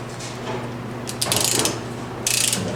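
A half-inch ratchet tightens a bolt on a Dodge Ram 1500 with two quick runs of rapid pawl clicking, close and crisp, over a low steady hum.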